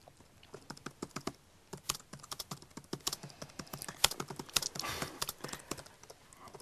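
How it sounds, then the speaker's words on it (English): Rapid, uneven clatter of keys on a computer keyboard, close and fairly quiet, bursts of quick typing with short pauses throughout. "You're a very fast typer."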